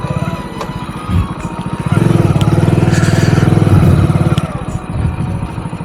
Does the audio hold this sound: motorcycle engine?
yes